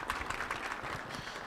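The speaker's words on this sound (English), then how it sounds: "give us a round of applause to the organizers of this event" Audience applause, a dense burst of many hands clapping steadily throughout, fairly loud and close.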